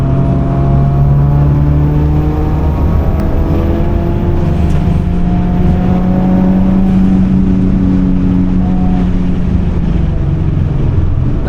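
A 600HP Mitsubishi Evo 5 and an Audi S4 racing at the Nürburgring, heard as a loud, continuous engine drone with sustained high revs and gently shifting pitch, close and steady throughout.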